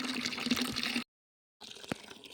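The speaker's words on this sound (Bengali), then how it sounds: "জল ধরতে চলে এলাম।" Water runs into a container as it is filled, a close, steady splashing stream that cuts out briefly into silence, then resumes more softly.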